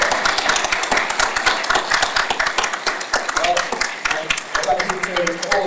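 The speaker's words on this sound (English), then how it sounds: "I think that definitely deserves a round of applause." Audience at a comedy panel event breaking into applause, dense rapid clapping from many hands that stays steady, with a voice speaking over it toward the end.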